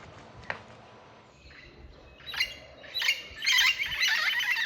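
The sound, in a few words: parrots calling in the jungle near Tikal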